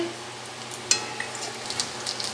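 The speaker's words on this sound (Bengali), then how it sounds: "ফোড়নটা ভাজা হবে তেলের মধ্যে" Cumin seeds and split dried red chillies fry in hot oil in a wok, a soft steady sizzle broken by a few sharp pops and clinks.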